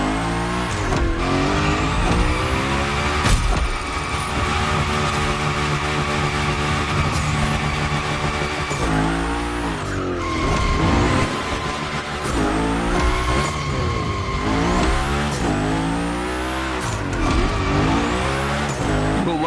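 The Hoonicorn in the racing game The Crew slides through a gymkhana training session, its engine roaring and revving continuously while tires squeal in long repeated skids, loud and close throughout.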